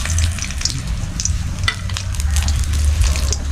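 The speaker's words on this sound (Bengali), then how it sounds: "এবার আমি ফোড়ন দিয়ে দেবো গোটা গরম মশলা, শুকনো লঙ্কা, তেজপাতা" Whole garam masala, dried red chillies and bay leaves sizzle and crackle steadily in hot oil in a pan, with close, continuous frying spatter and small pops throughout.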